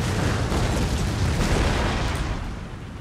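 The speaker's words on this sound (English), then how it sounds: "Devastating barrage." Artillery barrage in Empire Total War, a dense, continuous rumble of overlapping cannon explosions and booms, loud and sustained for three seconds before easing slightly at the end.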